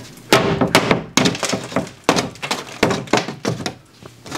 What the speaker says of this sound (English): we take a hammer.